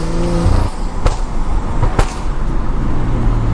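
Stage 2+ tuned BMW with stock exhaust driving hard, a loud close engine roar that climbs and shifts, with a couple of sharp transients, heard from inside the car.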